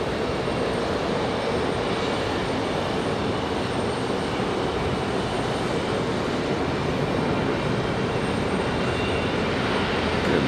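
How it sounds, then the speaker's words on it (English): Jet engines on a United Airlines Boeing 737 at Raleigh-Durham airport make a constant, loud airplane roar, steady and unbroken, with no voices. "Look at our 737 Birdbeak for United Airlines."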